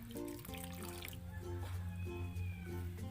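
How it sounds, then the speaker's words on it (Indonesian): Sugar-based molasses solution poured over a pile of simple homemade compost, a soft continuous trickle with scattered drips, close and quiet, under faint music-like tones. "Lalu kita siram dengan molase yang sudah saya buat menggunakan larutan gula pasir."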